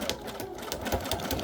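A sewing machine stitches through junk-journal paper with white thread, its needle hammering in a quick, steady, close-up rhythm with no voices.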